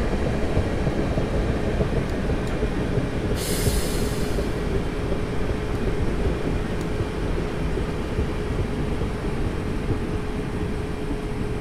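A simulated train on the Portsmouth Direct Line toward Hampton Court runs with a loud, steady rumbling roar and a faint high tone, a brief hiss burst partway through, heard alone.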